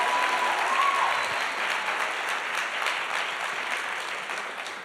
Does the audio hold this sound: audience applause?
yes